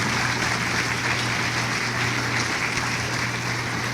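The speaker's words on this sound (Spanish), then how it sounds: "Dele un aplauso al Señor" A church congregation breaks into steady, sustained applause for the Lord, a dense hiss of many hands clapping that holds evenly for several seconds with no voice over it.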